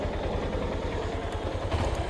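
A motorcycle engine idles with a steady low pulsing throb and a light mechanical clatter. It sounds fairly close and continuous.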